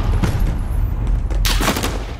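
Chaotic Call of Duty: Modern Warfare firefight, a dense wash of shots and impacts with a sharper cluster of loud cracks in the second half, no voices.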